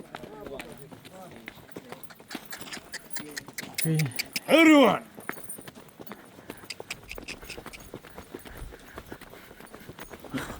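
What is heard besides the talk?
donkey hooves clip-clopping on desert ground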